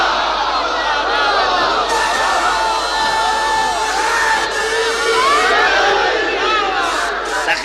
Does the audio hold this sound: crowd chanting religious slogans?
yes